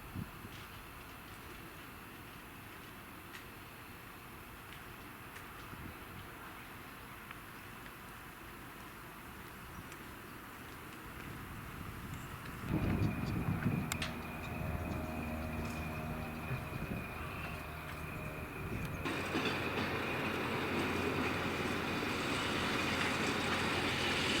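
A switcher locomotive rumbles past at a distance, a low mechanical drone that swells louder with a sustained horn-like tone, no talking.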